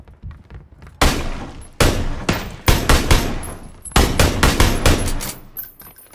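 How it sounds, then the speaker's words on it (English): Gunfire in PlayerUnknown's Battlegrounds as a player fires wildly: loud, close bursts of rapid shots in several clusters, with short pauses between volleys and no talking. "Clone's firing pretty wildly"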